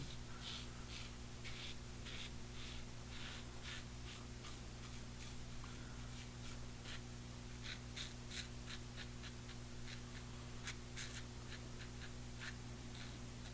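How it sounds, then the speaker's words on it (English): A razor scrapes across the cheeks during a shave, with quiet, close, irregular rasping strokes over a steady low hum. "Get some nice audible feedback from this razor."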